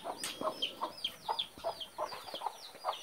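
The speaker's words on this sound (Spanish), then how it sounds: "La gallina como te lo mira." A hen clucks in short, repeated bursts at an even pace, fairly close, on what sounds like a farmyard, with no talking over it.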